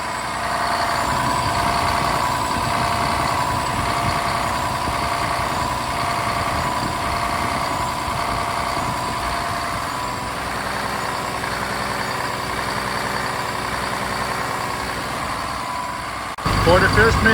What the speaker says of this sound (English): Now it's running in normal idle. Engine sound is normal.